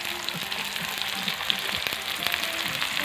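Onions frying in oil in a pan for a pork curry, giving a dense, continuous sizzle with light stirring scrapes mixed in; close and fairly loud, no speech.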